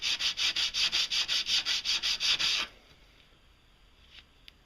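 The flat back of a chisel rubbed on 150-grit sandpaper in about a dozen quick, even, raspy strokes, loud and close, then it stops and a faint click or two follows.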